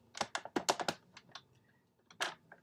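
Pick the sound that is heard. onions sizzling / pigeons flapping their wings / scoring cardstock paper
scoring cardstock paper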